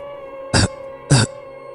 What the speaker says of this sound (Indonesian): Terdengar orang batuk di balik jendela.